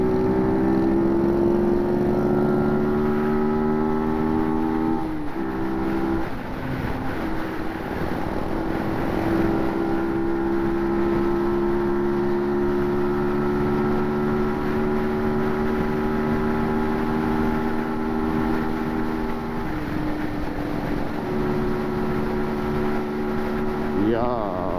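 Group of motorcycles riding together, a 125cc EDZ up front and a Blixton behind, their engines holding a steady droning hum with shifting harmonic tones throughout, a brief dip near five seconds and again near twenty, with light wind noise.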